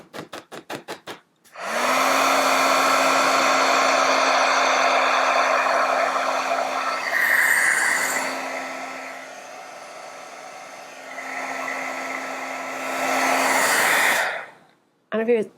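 A heat embossing tool blows hot air onto black cardstock from the back, a steady loud whirring hum that swells and dips slightly for about thirteen seconds, after a few faint clicks, before cutting off.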